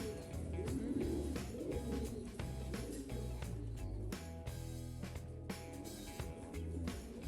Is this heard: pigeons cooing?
yes